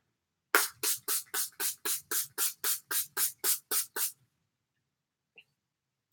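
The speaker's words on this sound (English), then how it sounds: "I'm going to spray my face before I put on my mascara" A rapid series of about thirteen short, sharp sprays from a pump mist bottle, evenly spaced, close up, followed by silence.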